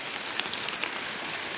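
Heavy rain pours down in a wilderness camp, a dense, steady patter of drops striking leaves and surfaces close by, with a few sharper individual splats standing out and no talking.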